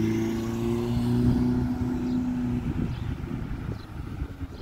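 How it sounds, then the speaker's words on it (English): Sports car engine on a road in Fort Erie, a loud close drone with steady low harmonics that holds, then breaks into rough, fluttering revving toward the end. "Sounds like they got a sports car that has nowhere to go."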